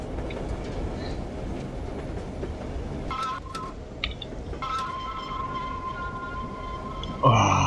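A train in the Zompiercer video game slows as it pulls into an abandoned station, with a continuous rolling rumble, high metallic brake squeals and tones, and a louder clank near the end.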